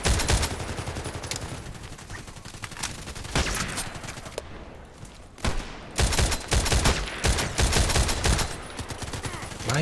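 Gunfire from a sniper mission in a video game, rifle shots fired blind in rapid bursts, loud and dense through most of the stretch with a brief lull partway before the shooting resumes.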